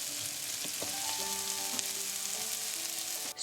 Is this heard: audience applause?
no